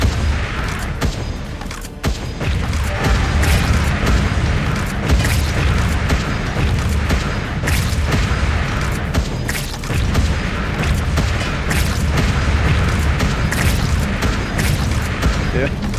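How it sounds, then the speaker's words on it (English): Bombs exploding in the video game Wall World, a steady barrage of heavy booms and thumps that fills the whole stretch, loud and dense, with a player talking over it. "here's where the bombs come in"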